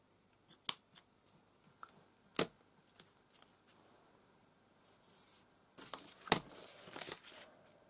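Scissors coated in gel medium snip at paper during a craft session, a few quiet separate cuts early on, then a denser burst of crisp snips near the end, close and soft.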